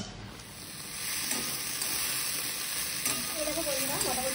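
Yardlong beans and potatoes frying in a pan for a curry, a dense steady sizzle with occasional scrapes from stirring, close and even throughout, and a faint voice near the end.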